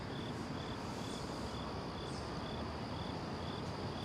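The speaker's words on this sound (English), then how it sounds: "Yep, we got crickets here." Crickets chirp in a steady, evenly spaced pulse over a constant hiss of outdoor night ambience in New York City, with no talking.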